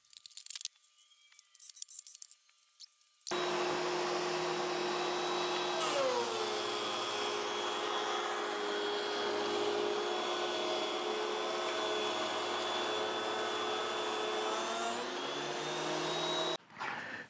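A DeWalt DW733 thickness planer fitted with a helical cutter head spins up with a sharp whine and runs steadily and loud, its pitch dipping briefly as it feeds, then winds down after about thirteen seconds.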